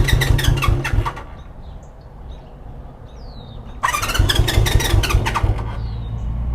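A 1973 Honda CB350 Four motorcycle engine runs loud and close with a rough, buzzing note, drops to a quieter lull where faint bird chirps come through, then surges back up.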